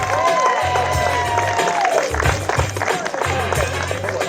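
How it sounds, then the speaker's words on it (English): Wedding guests applaud and cheer after a speech at a reception, with a mix of clapping, whoops and crowd noise, while low thumping music or movement runs underneath. "Let's have a big round of applause for the sisters of Brad and Laura."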